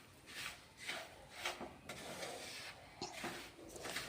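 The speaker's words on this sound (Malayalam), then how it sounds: "തരി അവിടേക്ക് ആഡ് ചെയ്ത് കൊടുത്ത ശേഷം നന്നായിട്ടൊന്ന് അത് ഇളക്കി കൊടുക്കുക" Semolina being stirred in ghee in a pan over a low flame, a steady dry scraping and rasping of the spoon against the pan, repeated strokes throughout, close and moderately quiet with no talking.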